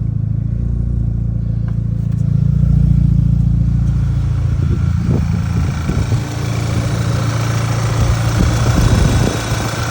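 An Audi B8 A4 engine idles steadily and up close after a power steering pump replacement, with a low continuous rumble, some light clatter and faint movement noises partway through.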